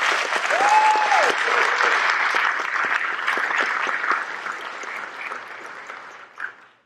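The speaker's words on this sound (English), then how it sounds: "Let's give them all a round of applause." An audience at a high school engineering and biomedical innovation night applauds student projects, steady sustained clapping that slowly fades over several seconds, with a brief whistle near the start.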